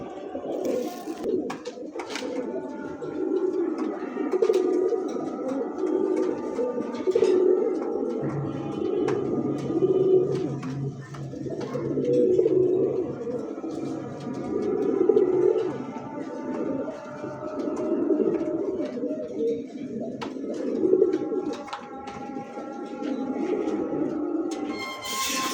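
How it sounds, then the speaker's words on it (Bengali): A racing pigeon, one of a breeding pair, coos in repeated low, throaty phrases close by, steady over a faint background hum and occasional small clatters. "কবুতর তো দেখলেন যে ডাক এটার, আর অ্যাক্টিভিটিটা দেখলেন"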